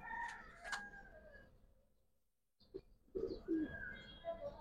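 A pigeon of a silver, army or khaki fancy breed gives a few close, throaty coos and calls, with a short quiet gap before another burst of calling.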